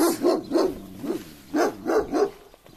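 A small dog barks in a quick series of sharp, close yips, several in a row with short gaps, loud and alone without talk.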